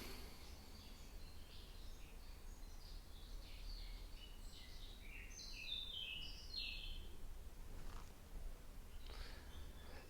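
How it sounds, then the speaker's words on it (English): A small bird sings faintly outdoors, with scattered high chirps and short trills over a steady low background hum. The calls come in intermittent bursts and are most active midway through. "But yeah, beautiful little bird."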